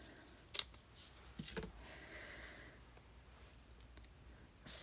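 Scissors snipping through a sheet of paper in a quiet room, a few sharp close cuts and clicks scattered over several seconds, faint and intermittent.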